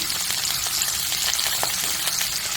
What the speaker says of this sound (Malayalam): നമുക്കിത് ഒന്നും എണ്ണയിലൊന്ന് വഴറ്റിയെടുക്കാം